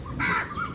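A single loud, harsh crow caw close by, lasting a moment over low background noise.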